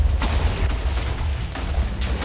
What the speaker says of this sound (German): Wir verpassen jetzt eine Explosion.